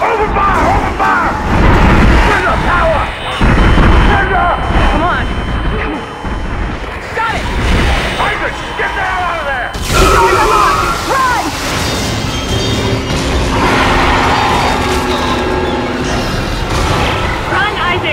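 Gunfire and heavy impacts in the sci-fi horror game Dead Space, with loud bursts, booms and crashes layered over tense music and shouting voices for the full stretch.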